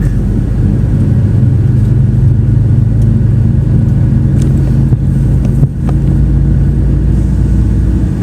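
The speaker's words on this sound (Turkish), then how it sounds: "500 beygir makine hızlandıramıyor arabayı." A heavily loaded truck with a 500 hp engine strains to gather speed on a road in an industrial zone, its deep engine drone and rumble heard loud and close from inside the cab, steady throughout, with no talk.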